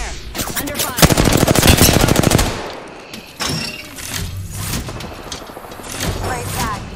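Rapid automatic gunfire from Apex Legends, loud bursts of machine-gun fire for about three seconds, then scattered single shots and impacts mixed with game sound effects.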